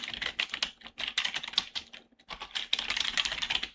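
Quick, light clicking of fingers typing on a computer keyboard, close and dry, in uneven bursts with a brief pause midway, no voices.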